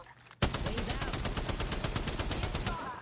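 Automatic weapon fire in the battle royale game Apex Legends, a loud rapid burst of evenly spaced shots starting abruptly and running steadily for about two and a half seconds.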